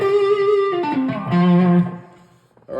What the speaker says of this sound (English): light distortion, slightly heavier distortion, or overdrive